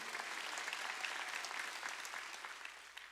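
A congregation applauds during a Wednesday worship service in a church, a continuous wash of many hands clapping that stays faint and distant and tapers slightly toward the end.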